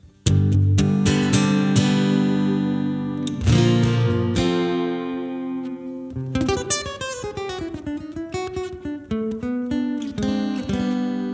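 Acoustic guitar played solo through a single mono input channel, starting with strummed chords and moving into picked melodic notes, full and close with a flat, centered sound.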